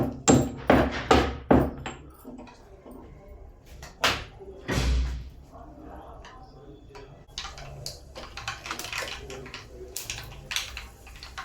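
A series of sharp thuds from pounding in a mortar, loud and rhythmic at first, then scattered strikes continuing under lighter background sounds.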